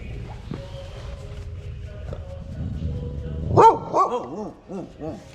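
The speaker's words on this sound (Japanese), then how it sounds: "ワンワン。" A dog barks outdoors at a tourist spot in Ho Chi Minh City, Vietnam: several sharp, close barks in quick succession near the end, following quieter background noise and a voice.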